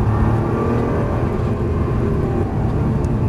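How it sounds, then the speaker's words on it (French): A Nissan GT-R accelerates on a race track at Dreux, its engine a loud, steady, close roar heard from inside the car, with no pauses. "On prend le temps d'accélérer, on a beaucoup d'angle de volant et on accélère"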